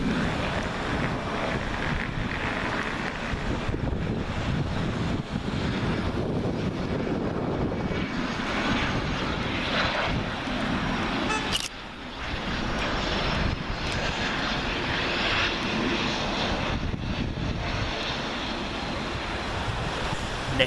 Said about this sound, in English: Next to arrive from an unknown destination is Embraer Phenom 300